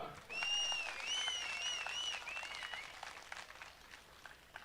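An audience claps loudly at a bhajan temple's anniversary celebration, with dense steady applause mixed with whistling tones that fades slightly toward the end.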